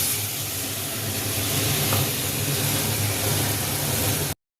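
Hot water poured into a pan of cooking egg omelettes gives a steady, close hiss and bubbling sizzle that runs unbroken for about four seconds, then cuts off.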